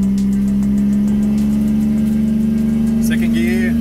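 Modified car on a race track accelerating hard through first gear, a loud steady engine drone rising slowly in pitch with a sharp higher whine near the end.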